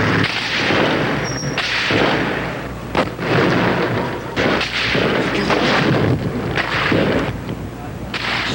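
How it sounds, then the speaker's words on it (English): Sniper gunfire from a transmission tower during fighting for a television station held by pro-Marcos forces, with loud, dense cracks and booms overlapping in a continuous barrage. "Snipers in a transmission tower shot at rebel troops that were trying to take over the station."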